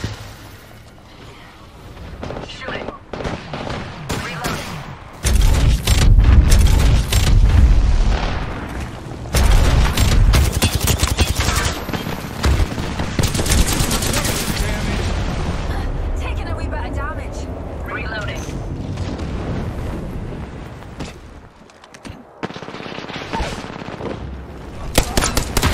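Apex Legends firefight with loud bursts of automatic gunfire and heavy booming blasts, spread over a long stretch, some close and some farther off, with someone talking over parts of it.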